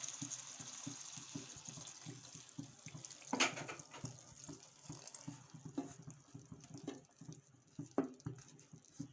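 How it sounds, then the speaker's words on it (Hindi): Faint pouring water splashes into a pan of sautéed taro-leaf knot curry amid quiet clinks and kitchen rattles, low level and close. "अब ऐड कर देंगे पानी।"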